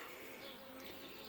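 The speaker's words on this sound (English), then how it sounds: "I've seen bees with pollen coming in." A swarm of honeybees buzzing, a faint, steady, even drone that lasts the whole short moment without any break.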